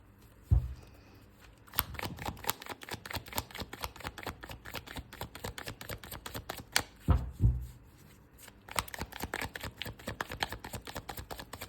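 Tarot cards being shuffled by hand, a dense run of quick riffling flicks and soft slaps with a few louder taps, close and continuous with brief pauses.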